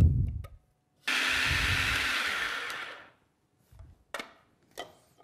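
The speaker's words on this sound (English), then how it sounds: "we're going to just blend this in the blender" Blender whirring through butter and half the flour for an apple berry pie dough, a loud two-second burst that winds down, followed by a few short knocks and clinks.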